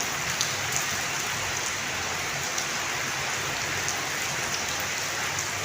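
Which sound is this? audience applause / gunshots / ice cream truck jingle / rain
rain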